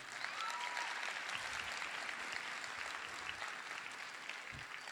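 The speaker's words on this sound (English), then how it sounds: "Give him a round of applause." Crowd applause at a high school graduation ceremony, a steady wash of clapping from a large audience heard somewhat distantly, continuous and even with a few faint voices underneath.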